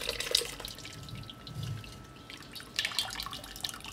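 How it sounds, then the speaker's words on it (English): Cheese curds and whey from homemade cow's-milk cheese poured into a colander, giving soft splashing and trickling water sounds with a couple of brighter pouring bursts, close and fairly quiet. "So I'm going to pour some of them into my colander"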